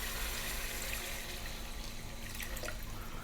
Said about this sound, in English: what we're going to do now is we're going to get water, cold water.